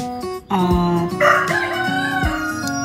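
A rooster crows loudly and close by, one long drawn-out call that rises and wavers, with no other sounds around it.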